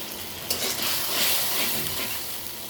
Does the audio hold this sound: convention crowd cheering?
no